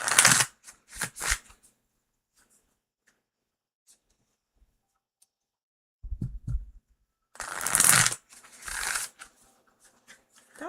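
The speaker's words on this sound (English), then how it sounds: "That was a lovely shuffle." Tarot cards are shuffled during a live reading in quick, riffling bursts: a flurry of crisp card flicks at the start, several seconds of near silence, then another louder run of shuffling and a few softer riffles, all close.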